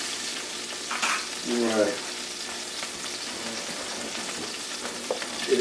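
Vegetables for sweet and sour pork frying in a pan: a continuous close sizzle with a burst of stirring and scraping early on, settling into steady frying; a person briefly speaks.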